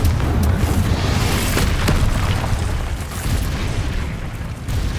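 Confringo blasting spell explosions in the Hogwarts Legacy game, loud booming blasts and bursts with a dense rumbling roar, sharp cracks near the start, continuous and close.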